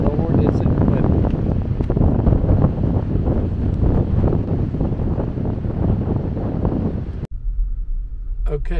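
Strong, steady wind buffets the microphone at a canyon rim overlook, a dense roaring rush that cuts off abruptly near the end, with voices talking underneath.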